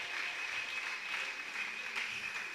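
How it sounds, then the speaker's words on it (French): Church congregation at a worship service applauds loudly, with sustained dense clapping and scattered cheers filling the room without pause. "Acclamez encore très fort."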